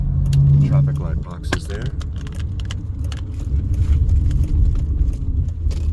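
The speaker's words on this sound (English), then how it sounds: "So we'll wait for this truck." A truck passes along a street in Historic Westside Las Vegas, a loud, steady low engine rumble that lasts the whole stretch beneath someone talking close by.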